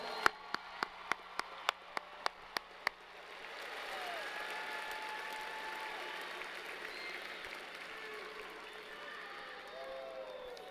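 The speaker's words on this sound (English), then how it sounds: "Give them one more round of applause." Audience applauding graduates at a university commencement ceremony, a few sharp clicks before a broad wave of clapping and light cheering builds and holds steady, heard from a distance in a large hall, with a few voices under it.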